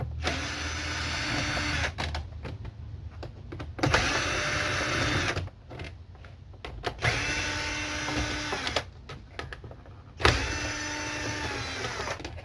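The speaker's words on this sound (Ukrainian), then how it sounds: "Беремо знову Т-15 торкс." A powered T-15 Torx driver backing screws out of the dashboard trim of a Sandero, with four close bursts of whirring motor separated by brief pauses.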